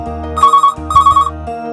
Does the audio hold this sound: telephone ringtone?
yes